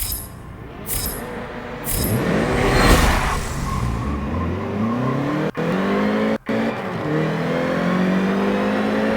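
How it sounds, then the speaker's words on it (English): A race car engine in a video game revs up, its pitch sweeping higher through successive gear changes, loud and close with brief cuts between shifts. "This car is just awesome. Yeah, this car is great, man. Listen to that engine sound"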